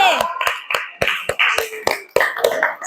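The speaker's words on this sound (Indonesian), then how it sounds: "Tepuk tangan dulu untuk teman-temannya nomor 3" A small classroom group claps in a quick, rhythmic pattern for the third-place quiz winners, sharp, evenly spaced hand claps ringing out close by, with voices chattering between them.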